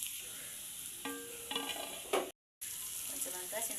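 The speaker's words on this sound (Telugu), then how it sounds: "మంచిగా కలుపుకోవాలి అన్నీ కలిసేటట్టు" An onion prawn curry with ginger, garlic and chilli sizzles in a pan while it is stirred. Close frying sizzle runs under intermittent scraping strokes, with a brief cut to silence midway.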